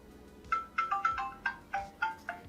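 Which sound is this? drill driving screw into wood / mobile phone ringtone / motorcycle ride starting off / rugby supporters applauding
mobile phone ringtone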